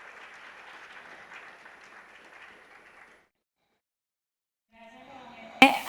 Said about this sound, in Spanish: Aplauso, por favor.